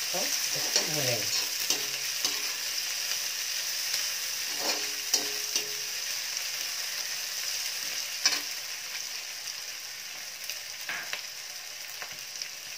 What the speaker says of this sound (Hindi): प्याज को हल्का ब्राउन होने तक हम इसको भूनेंगे।